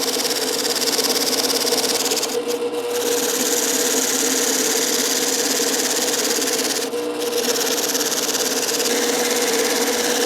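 A handheld jigsaw cuts circles in wood with a loud, continuous buzzing whine, briefly dipping twice as the blade slows or shifts.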